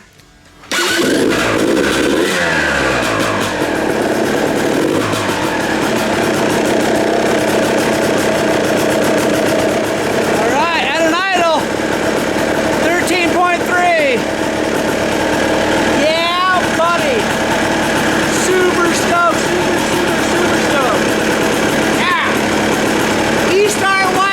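A Yamaha YZ250 dirt bike fitted with an electric start fires up after a brief quiet moment, then settles into a loud, close, steady two-stroke idle with a few small revs.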